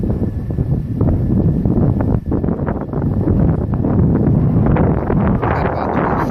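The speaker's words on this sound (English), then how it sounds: "It's a little windy outside right now" Strong wind buffets and roars across the microphone in continuous gusts, loud and close, with no one speaking.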